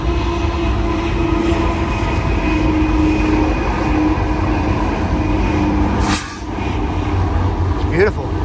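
A BNSF Executive heritage SD70MAC diesel locomotive leading a freight consist with mid-train DPUs passes by with a loud, continuous rumble and steady engine drone, holding close throughout with a short dip near the end.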